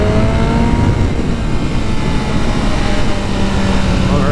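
BMW M1000RR motorcycle engine revving up through the gears during break-in, a loud continuous whine and drone with pitch climbing and settling, close and dominant throughout.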